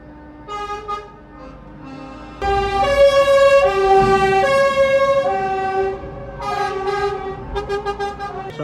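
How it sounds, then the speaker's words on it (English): A big American truck with a snow plough on the front passes nearby with a loud, sustained whistling whine from its turbos, rising and holding over the rumble of the engine. "Hear the turbos whistling on it."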